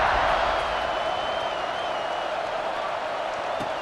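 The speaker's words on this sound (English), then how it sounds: "this crowd is buzzing after that last score" Football stadium crowd at a Wyoming vs Syracuse game keeps up a steady, distant roaring murmur after a touchdown, a dense wash of noise with a faint high whistle running through it.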